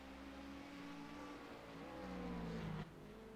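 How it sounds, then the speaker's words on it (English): A Ferrari GT3 race car engine in a sports car race, a steady harmonic drone with pitch rising toward the end before cutting off abruptly, heard at a moderate distance. "Ferrari GT3."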